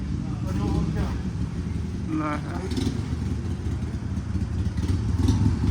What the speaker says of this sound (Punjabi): ਮੋਟਰਸਾਈਕਲ ਵਾਲਾ ਆ ਗਿਆ ਹਾਰਲੇ ਲੈ ਕੇ